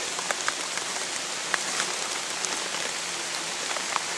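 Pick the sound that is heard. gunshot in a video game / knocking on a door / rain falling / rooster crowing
rain falling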